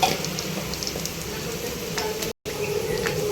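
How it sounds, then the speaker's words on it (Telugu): Onion and garlic frying with ginger-garlic paste in a pan give a steady close sizzle with light stirring scrapes, running continuously apart from a very brief gap. "కొద్దిగా పసుపు అల్లం వెల్లుల్లి పేస్ట్ పచ్చివాసం పోయే వరకు వేయించుకున్న తర్వాత"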